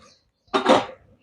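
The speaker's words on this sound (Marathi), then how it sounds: "मोहरी थोडी आपल्याला छान फुटू द्यायची आहे" Mustard seeds crackling in hot oil with asafoetida: a short burst of sizzling and popping from the pan after a silent pause, moderately loud, then fading out.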